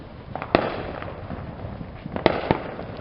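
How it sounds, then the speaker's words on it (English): An Air Cavalry consumer firework going off on a Fourth of July night, a scattered series of sharp cracking pops, one early and a tight group of bursts near the end, fairly close and loud. "the Air Cavalry is the last firework I would do for y'all for tonight"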